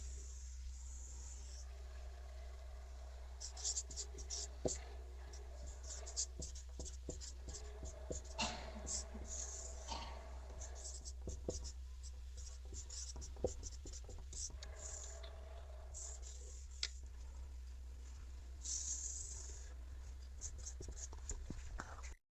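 A pen scratches across paper in a math lesson, with intermittent strokes and taps close by over steady low hum and faint background noise.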